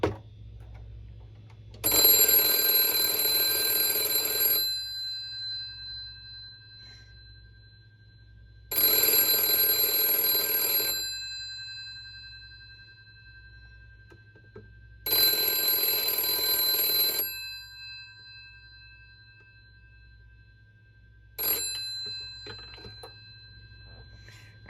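A refurbished 1968 GPO 706 telephone in Concorde blue rings in four loud electric bell bursts, each about two to three seconds long, with a steady faint hum between them and a short final ring near the end.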